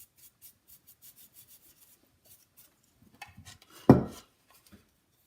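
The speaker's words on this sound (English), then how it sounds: "So I'm just going to brush away the excess leaf." Soft brush sweeping excess gilding leaf off a moulded decorative piece: a series of faint light brushing strokes, then a louder, closer scrubbing rustle near the end.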